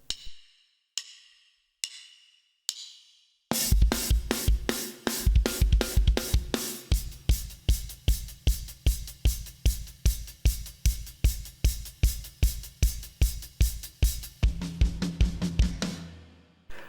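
Drum kit playing the bridge of a song: four sparse stick clicks count in, then a loud close steady groove of heavy kick and snare hits with crashing cymbals, ending on a ringing tom.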